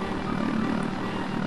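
A helicopter in the video game Body Harvest gives off a steady whirring rotor and engine drone, moderately loud and continuous, with no speech over it.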